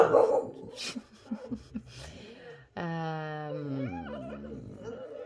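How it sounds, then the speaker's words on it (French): A sleeping dog whimpers while dreaming, with short soft yips and muffled huffs followed by a longer, high, quavering whine that falls and fades, close and clear. "Mon chien, il rêve, vous inquiétez pas, il est en train de rêver"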